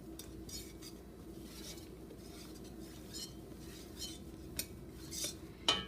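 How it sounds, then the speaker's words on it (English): A spoon gently folds whipped egg whites into a cheese soufflé mixture in a bowl, giving faint, soft scraping strokes with a few light clinks of utensil against the dish, the last one louder. "and you gently stir it in."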